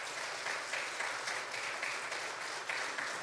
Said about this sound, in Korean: 우리 나오실 때 한번 박수로 환영해 주시면 감사하겠습니다.